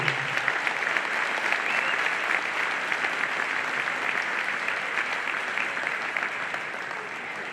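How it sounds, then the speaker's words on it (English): A crowd at a 2024 University of Evansville Athletics Hall of Fame induction ceremony applauds in a steady, full wash of clapping that fades slightly toward the end. "Could we have one more round of applause for this incredible 2024 Hall of Fame?"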